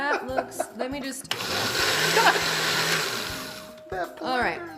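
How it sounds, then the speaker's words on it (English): A blender crushes ice for a tiki cocktail with a loud, harsh whirring and grinding that runs for a couple of seconds, with people talking before and after it. "blender is the worst"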